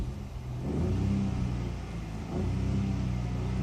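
A turbocharged 1-litre EcoBoost engine in a Ford Fiesta revs hard and steadily, with a loud, muffled mid-range drone that dips briefly and climbs again, held near the rev limiter with no talking.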